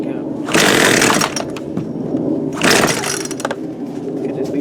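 A 42cc Poulan Pro PP4218A chainsaw, restarted after repair work, runs close by, revving in two loud bursts that fall back to a rough idle between them, while a person talks.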